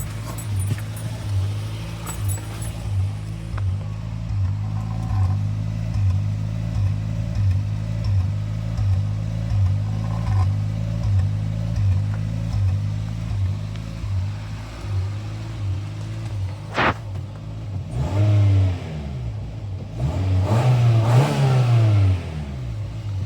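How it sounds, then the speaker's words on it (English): A Toyota Sera engine idles unevenly while warming up, with a steady pulsing idle that surges and dips, then revs up in a few short bursts near the end, close and alone. "So one issue I have with this Sera is it idles funny."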